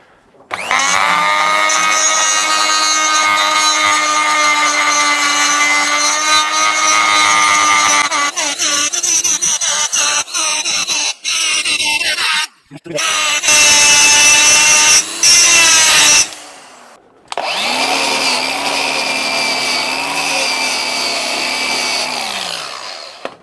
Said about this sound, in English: So I'm going to grind that out and then run some brass into it.